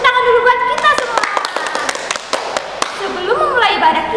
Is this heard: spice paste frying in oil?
no